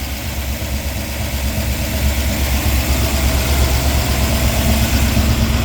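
A 1958 Ford F100 pickup's Y-block V8, started for the first time in 40 years and running off its own fuel pump, idles steadily with a loud, continuous low rumble throughout.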